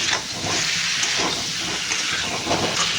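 Potatoes frying with spices in a pan for aloo dum, a steady loud sizzle and hiss running throughout with no voices.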